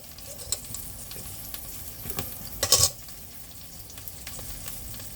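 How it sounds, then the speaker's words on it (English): Little patties fry in a frying pan, a steady close sizzle with a brief louder crackle and scrape partway through, no one talking. "I'm just going to make them in the frying pan like little patties."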